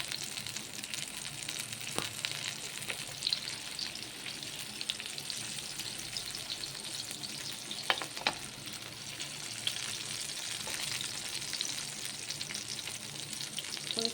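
Fish (kumula and vela meen) frying in a nonstick pan gives a steady, close sizzle with a few soft scrapes and clicks, continuous throughout with no talking.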